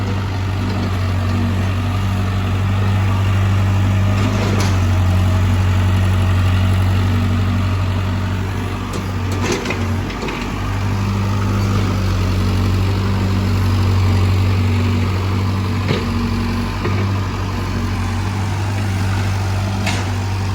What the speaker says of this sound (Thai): มาแล้วครับรถปูนมาแล้ว